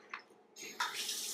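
Room-temperature water pours for bread dough in a brief splashy trickle that grows into a steadier stream, fairly quiet and close, with no voices.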